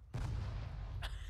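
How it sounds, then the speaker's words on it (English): A missile streaks in during an Arma 3 combined-arms battle on Chernarus, arriving as a sudden loud, sustained roaring rumble with a sharp crackling burst near the end, close and unaccompanied by talk. "Oh, here's a missile."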